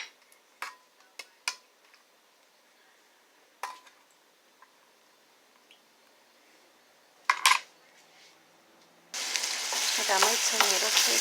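Tomato paste in a pan gives sparse scrapes and clinks of utensils against cookware. Then a loud, steady, close sizzle begins near the end as it fries, with no voices.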